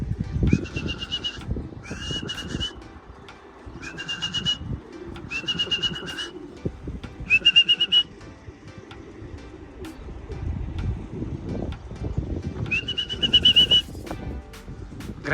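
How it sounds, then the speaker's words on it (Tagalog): Racing pigeons return home with repeated whistling, cooing calls in short bursts and occasional wing flutters, fairly close over a rustling outdoor background. "Ang dami pa ng kalapatids"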